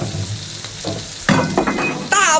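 Seafood hits a hot wok of aromatics and is stir-fried, a loud sizzle that surges as pieces go in, with clattering stirs and a bright metallic scrape near the end.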